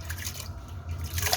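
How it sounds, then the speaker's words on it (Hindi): Soaked lentils slide into a pot half full of water, a short soft splash and trickle of liquid heard close and fairly quiet. "इसमें अब मैं ये सोक्ड जो दाल है ये ऐड कर रही हूँ"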